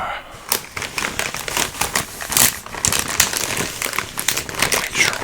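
Close, crinkly rustling of a plastic chip bag being handled and cut open with scissors, with sharp crackles and snips in an uneven rhythm.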